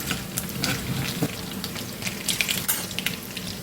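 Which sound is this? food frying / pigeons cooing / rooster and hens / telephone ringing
food frying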